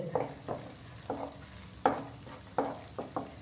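Onion masala frying in oil for a restaurant-style egg gravy, with a low sizzle broken by about eight sharp scrapes and knocks of a spoon stirring against the pan at an uneven pace, close and fairly quiet.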